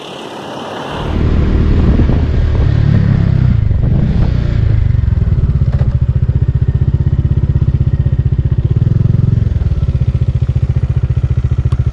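A motorcycle rides along a road in Bhutan, its engine note rising loud and close as it pulls away, then settling into a steady throbbing cruise with buffeting wind noise.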